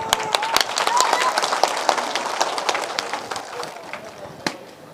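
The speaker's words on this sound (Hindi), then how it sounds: "आपकी ताली की आवाज से।" Applause from an audience at a party membership ceremony, dense clapping that is loud at first and slowly thins and fades, with a voice over it.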